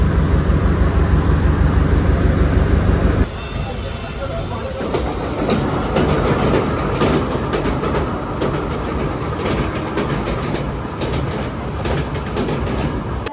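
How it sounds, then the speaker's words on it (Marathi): A train bound for Miraj rumbles along the rails at close range, loud and continuous with steady clickety-clack, a deep engine drone in the opening seconds giving way to broader rattling as it moves. "मिरजची ट्रेन लागलेली आहे."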